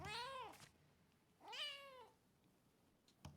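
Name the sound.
cat meowing in the video game Rise of the Ronin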